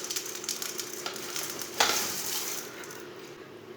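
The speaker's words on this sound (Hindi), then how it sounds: "सेमियों को भी हल्का सा ब्राउन कर लेंगे। 1 मिनट तक इसे भून लेंगे।" Vermicelli browning in a pan with chopped coconut and cashews, a steady close sizzle with a sharper scrape and clatter of stirring near the middle that then settles back into continuous frying.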